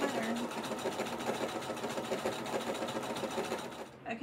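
Sewing machine running continuously while embroidering a sweater, a loud, steady rapid mechanical whir and stitching rattle that stops abruptly at the end.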